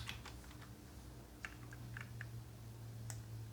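Keyboard typing on a computer while entering HTML link text, a run of light quick key clicks over a steady low hum, close and fairly soft, with no talk.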